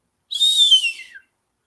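A single short, high whistle sounds alone, gliding slightly downward in pitch and lasting about a second.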